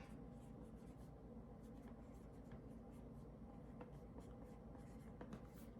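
A marker writing on a meal-prep box lid holding shepherd's pie over mashed potatoes, steady faint scratching strokes throughout against a continuous low room hum, with no voices.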